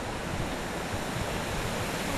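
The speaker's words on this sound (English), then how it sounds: "There's a waterfall right there." A waterfall at a family travel destination roars in a broad, steady wash of falling water, continuous and fairly close, with no voices.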